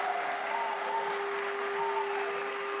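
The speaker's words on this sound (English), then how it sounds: "I would like us to give another hand of applause to Eritrean President." An audience gives a steady round of applause for the Eritrean President, a dense even patter of many hands held at a constant level for a few seconds, without voices.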